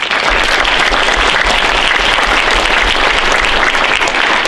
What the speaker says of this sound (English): giving a round of applause to the friends and the family and the support, the mentors, and to all the students who are here presenting